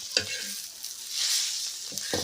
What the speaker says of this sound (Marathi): मिरच्या आणि कांदे व्यवस्थित भाजून द्यायचे आहे तव्यावरती